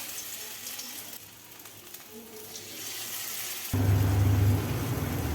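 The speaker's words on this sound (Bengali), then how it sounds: "এটা চালের গুঁড়ো এটা সেদ্ধ করা ছা এটাকে আমি এভাবে ভাজবো" Boiled food coated in rice flour fries in a pan, a moderate sizzle that grows louder partway through, with a low hum entering near the end.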